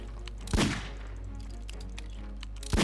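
Gunfire in the Roblox game Blox Fruit: two sharp, loud shots spaced about two seconds apart, with quieter background game sounds in between.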